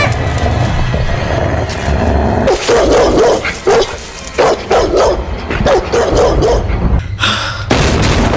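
Black dogs bark in the Supernatural episode Crossroad Blues: repeated loud barks and yips over a rumbling backdrop, with brief pauses between the outbursts.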